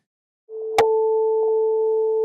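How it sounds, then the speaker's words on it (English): A tuning fork sounds a steady, pure tone that starts suddenly after a brief silence and holds clear and loud, with a faint click early on. "Let's go back to our tuning fork."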